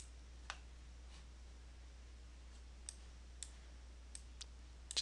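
Scattered computer mouse clicks, faint and isolated, sound at irregular intervals over a low steady background hum, with a quick cluster of clicks at the end.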